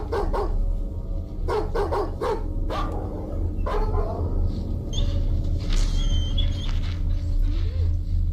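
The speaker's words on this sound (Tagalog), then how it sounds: "Naiinis na ako sa asong yan." Dog barking in a series of sharp, fairly close barks early on, then quieter yips and faint rustling, with no talking.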